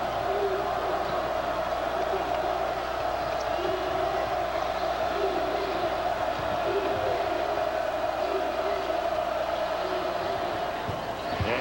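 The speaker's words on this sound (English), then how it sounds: "That brought the crowd to life." Home crowd in a college basketball arena at Clemson during a Duke game: a steady roaring wall of cheering and shouting, loud and sustained, with a commentator talking over it.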